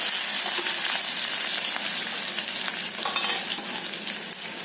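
Garlic and coriander sauté in oil for a tempering, producing a steady, hissing sizzle close up with a few louder crackles and a faint scrape of stirring, and no voices.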